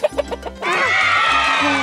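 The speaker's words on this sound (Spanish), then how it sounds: "¡Es la gallina bataraza!" A few short clucks, then a sustained, loud cackling squawk from a barred hen, close up, with a low rhythmic thumping underneath.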